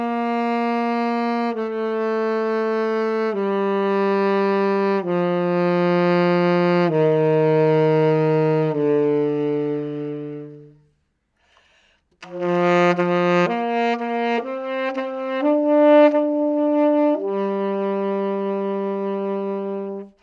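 A saxophone plays a sequence of sustained and stepped notes through a different mouthpiece, one of a price-ranked lineup including Concept, BG, SBT and Sistine pieces, with a short pause midway, close and loud, with no talking.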